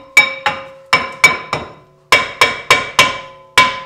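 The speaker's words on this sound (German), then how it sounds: "Noch ein kleines Hämmerchen." Roughly eleven sharp metallic taps from a small hammer knocking a seized brake disc loose on a VW, struck close up in uneven bursts, each ringing briefly before decaying.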